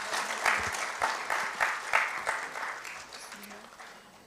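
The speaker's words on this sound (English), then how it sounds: "Please give a big round of applause." Audience applause at a conference souvenir presentation: a sustained burst of clapping from a seated crowd, steady for about three seconds and then tapering off, with a brief voice underneath.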